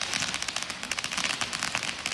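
Fireworks set off in a town square at night make a dense, continuous crackle of rapid pops and bursts at moderate distance, with no pauses.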